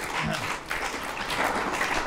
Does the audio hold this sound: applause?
yes